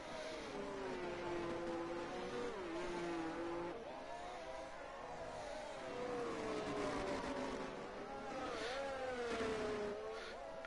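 F1 race cars in a sim racing game: a high, whining engine note rising and falling through gear changes and corners, steady and fairly distant, with other cars faintly around and commentary voices in the mix.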